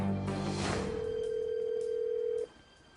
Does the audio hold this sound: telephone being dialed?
yes